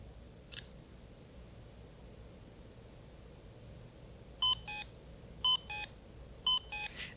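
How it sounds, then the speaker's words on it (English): An HP 48 calculator's alarm sounds a single short chirp, then after a pause three evenly spaced pairs of sharp electronic beeps, close and clear over faint room hiss. "There's the alarm we set earlier."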